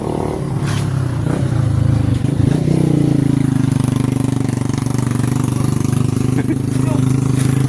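A motorcycle engine runs close by, settling into a steady, loud idle after a few seconds while people talk over it.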